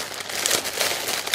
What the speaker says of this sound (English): it's plastic on plastic on plastic bags here